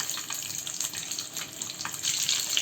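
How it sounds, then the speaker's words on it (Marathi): Stuffed eggs frying in a couple spoons of oil on a hot iron tawa, giving a steady, close hiss and crackle with no talk. "आणि अंडी छान तेलामध्ये आपण 2 साईडने परतून घेऊ"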